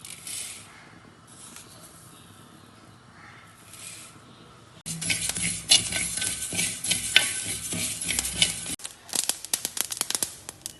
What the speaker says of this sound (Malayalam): ഇപ്പം നമുക്ക് ഉലുവ കടുക് എന്നിവ റോസ്റ്റ് ചെയ്തെടുക്കാം